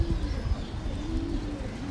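Rampuri pigeons coo in soft, drawn-out, rolling calls, with a male pursuing a female, heard close by over a low background rumble.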